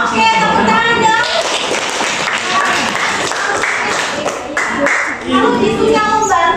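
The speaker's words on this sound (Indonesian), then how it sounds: "Oke, tepuk tangan dong." A group at an Indonesian teacher-training session claps hands in a steady burst of applause that lasts several seconds, with some voices mixed in.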